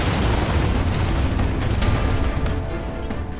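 A meteorite impact strikes the Appalachian Mountains: a loud, sustained roaring rumble that stays heavy and continuous throughout, easing only slightly near the end.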